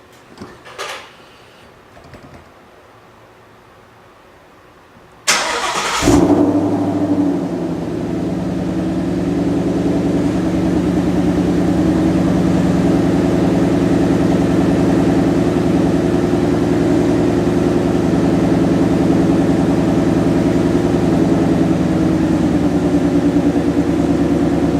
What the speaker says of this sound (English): now we're going to go ahead and start up the vehicle and see what happens